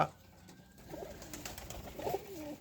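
Pigeons of the Sirazi breed cooing softly nearby, a few low throaty coos rising and falling across a quiet background with no talk.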